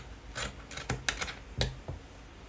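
Scissors cut fabric freehand for a dress sleeve, giving several soft, close snips and rustles in an irregular rhythm with no one talking.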